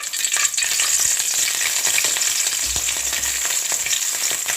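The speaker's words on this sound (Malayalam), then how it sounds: "ഈ വെളിച്ചെണ്ണയിലേക്ക് നമ്മൾ എടുത്ത് വെച്ച പച്ചമുളക് ഇട്ട് കൊടുക്കാമേ" Green chillies frying in hot coconut oil give a loud, continuous close sizzle with fine crackle, steady throughout with no talk.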